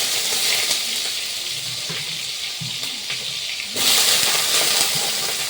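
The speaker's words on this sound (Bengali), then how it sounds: "এখন সোয়াবিনগুলো চড়াই দিই।" Soybean chunks fry in hot oil in a wok, giving a steady broad hiss that jumps suddenly louder partway through and then holds, with no talking.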